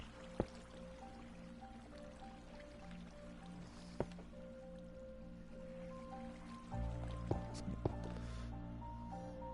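Water pours into a stone-lined fountain in Minecraft as a steady trickling fill, with a few sharp clicks of blocks being placed over it and a louder, fuller wash of water near the end.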